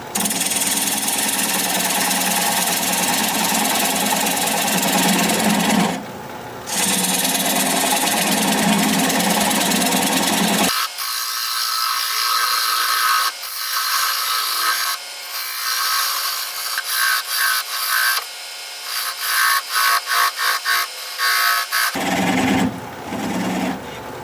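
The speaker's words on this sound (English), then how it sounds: "I'm going to use a 3/8 inch bowl gouge and begin to commence removing that tenon." A wood lathe turning a bowl while a 3/8 inch bowl gouge cuts away the tenon, running at about 600 RPM. It gives a loud, rough, scraping roar broken by brief gaps, and the pitch and texture shift partway through as the cut changes.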